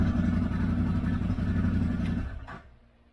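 Kawasaki Z950 with an ECU tune and new exhaust, its engine running loud and steady up close, then cutting off and dying away over the last second.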